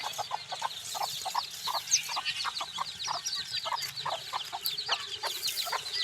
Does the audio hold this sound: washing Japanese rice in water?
no